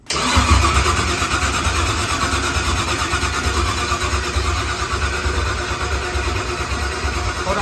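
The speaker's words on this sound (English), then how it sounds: "Hopefully it'll crank right up" A procharged Ford Coyote V8 cranks and fires on its first start-up, a sudden loud catch followed by a steady, rough, close engine roar that holds for several seconds without talk.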